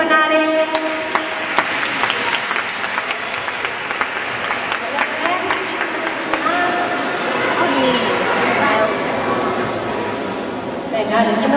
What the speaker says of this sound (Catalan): Un aplaudiment per Are!